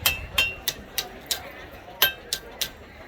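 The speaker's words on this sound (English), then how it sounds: "So I'm just rotating this as I hammer it." Hot, thin metal is hammered at a forge while being rotated, giving about eight sharp, ringing strikes at an uneven, fairly quick pace, close and distinct above a low background hum.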